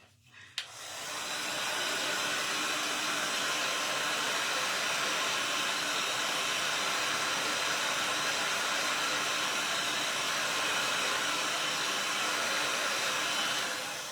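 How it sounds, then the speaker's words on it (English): A handheld heat tool used as a dryer blows on craft foam, a loud, steady broadband whoosh that starts abruptly and runs unbroken for about fourteen seconds with no talking. "you just got to be really careful when you're using a heat tool on the foam"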